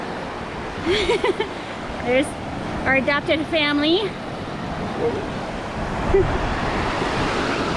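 Ocean surf at Pensacola Beach washes steadily in the background while people talk over it, a constant windy roar of breaking waves under their voices.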